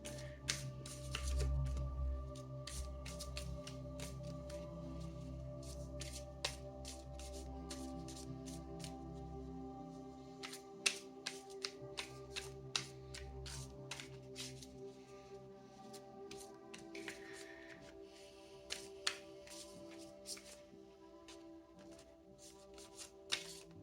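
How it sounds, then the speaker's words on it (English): Angel advice oracle cards are shuffled close up and quietly by hand, giving a long run of soft riffling and irregular sharp card snaps and taps over a low background hum. "I'm gonna pull you one final angel advice card."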